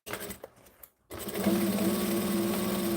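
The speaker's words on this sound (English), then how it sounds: "Start at the side seam, stitch and back stitch." A sewing machine stitches and back stitches the side seam of a foam-padded bag, a brief run and pause before a steady, close, continuous whirring hum takes over.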